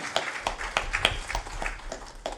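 A church congregation at a Sunday worship service claps in an uneven, scattered rhythm, single claps spaced irregularly and heard at moderate volume in a reverberant hall.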